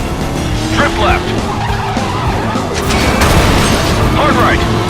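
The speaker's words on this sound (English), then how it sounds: "Drift left." A car drifts with screeching tire skids in the stunt driving game Stuntdrive Ignition, loud and close with engine roar and squeal swells, under spoken directions.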